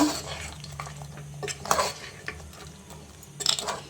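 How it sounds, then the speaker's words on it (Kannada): A spoon stirs mutton sambar mixture in a metal pot, giving repeated scraping and clinking knocks at an uneven rhythm, close and fairly loud, with a faint sizzle beneath. "ಇವಾಗ ಫುಲ್ ಮಿಕ್ಸ್ ಮಾಡ್ಕೊಳ್ಳೋಣ"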